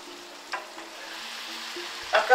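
Leek with curry and dried garlic cooks gently in a pan for a leek omelette, a faint steady sizzle with a couple of light stirring scrapes, near and quiet, brief and without talk.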